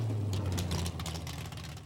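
A 1960s-70s American muscle car engine idles with a deep, loping rumble, its low throb steady and close, shifting slightly in tone partway through.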